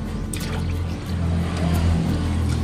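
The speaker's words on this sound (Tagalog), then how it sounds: "Maglagay ng 2 liters ng tubig sa kaserola" Two liters of water are poured into a saucepan, a steady, close trickle and splash that rises slightly in level as the pot fills.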